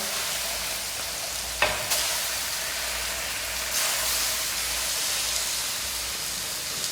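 Steady sizzling of boneless pork chops browning in butter in a frying pan, a continuous hiss with a couple of sharp clicks and scrapes, close by.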